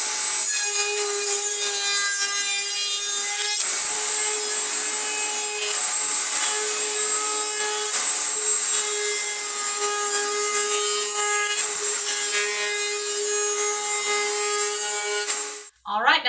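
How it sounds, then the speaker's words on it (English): A router on a router table cuts rabbets into wooden box boards, a steady high-pitched whine with a continuous cutting rasp, loud and close, running unbroken for about fifteen seconds before stopping abruptly. "we're over here at the router table. We're going to make things a little bit easier by going ahead and cutting rabbets in these right now"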